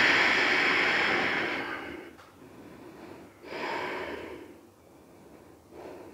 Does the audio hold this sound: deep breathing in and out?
yes